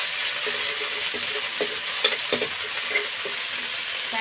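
Ginger, garlic and chili hit hot oil in a pan, giving a steady close sizzle with a few soft stirring knocks and clicks scattered through it. No one speaks.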